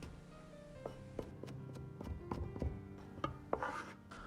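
A kitchen knife taps and chops crushed ginger and scallion on a cutting board, a string of close, sharp, irregular knocks with no talking.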